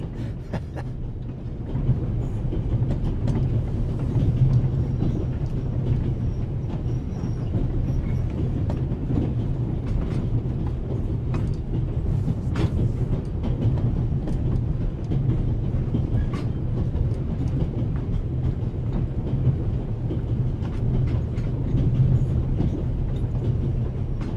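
A train rolls steadily on rails in the video game The Raven Remastered, a continuous low rumble with soft rhythmic clicking and occasional faint metallic ticks, sustained without voices.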